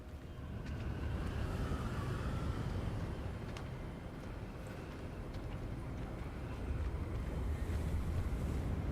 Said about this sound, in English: This is a bit windy now.